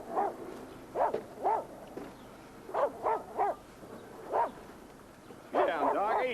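A dog barks in short bursts, several sharp woofs spaced irregularly with a longer, louder flurry near the end, heard close alongside background movement.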